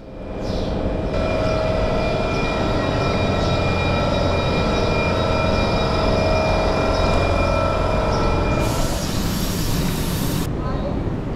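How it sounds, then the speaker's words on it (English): TGV Lyria high-speed train bound for Paris, number 9218, with a steady loud rumble and hum throughout, a brighter hiss rising near the end, and faint voices underneath. "the TGV Lyria to Paris, train number 9218, departing at 11:34"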